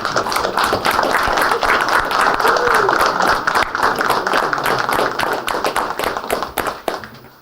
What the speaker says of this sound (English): everyone just please join me in a quick round of applause